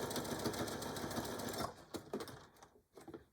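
A sewing machine stitches a denim cell phone pouch in a steady rapid run for over a second and a half, then stops and restarts in short bursts with quiet pauses between, close and fairly soft.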